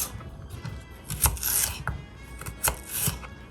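Knife slicing celery into sticks on a cutting board, a series of crisp crunchy cuts and light knocks, close and moderately loud, in an irregular rhythm with faint rubbing between strokes.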